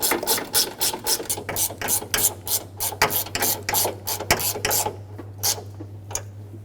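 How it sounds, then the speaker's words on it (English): A hand ratchet clicks in quick bursts of rapid pawl ticks, with short pauses, while tightening radiator bolts on a Chevrolet Silverado 2500 HD. A steady low hum sits underneath and no one talks. "I have my ratchet ready. I have my wrench ready. I'm going to tighten them up just a little bit."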